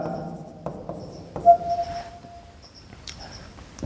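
Marker or chalk strokes on a board during a geometry problem, a few short scratchy taps and one longer squeaky stroke, close and fairly quiet, with no talking.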